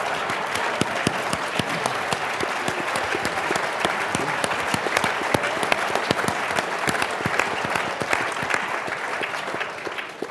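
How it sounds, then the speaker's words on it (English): A conference audience applauds a panel on reinventing energy, a steady dense clapping that fills the room evenly from start to finish with no pause. "Let's give them a big round of applause"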